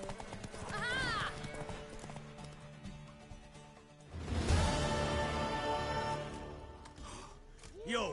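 Horse hooves clip-clopping in The Witcher 3 game, a steady hoofbeat rhythm with a horse whinnying, game music and characters talking over it.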